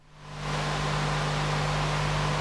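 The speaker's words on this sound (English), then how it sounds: "And if I turn on noise, we can add some noise. There's a noise machine inside of echo," White noise from the built-in noise generator of an echo effect plugin swells in over half a second, then holds as a loud, steady hiss with a constant low tone underneath.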